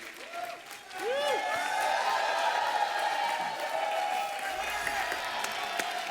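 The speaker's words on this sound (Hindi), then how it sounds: "एक बार जोरदार तालियां हमारे मेहमानों के लिए" A studio audience on The Kapil Sharma Show, a TV comedy show, bursts into loud, sustained applause and cheering for the guests, with a musical sting playing over the crowd.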